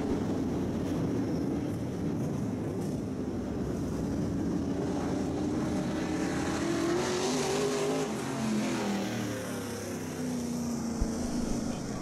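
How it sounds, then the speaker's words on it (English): Race cars at full power on a track at a Lavonia July 4th 2014 race, a sustained loud engine roar with rising and falling pitch as the cars accelerate and pass, continuous throughout. "you saw the cars go to power"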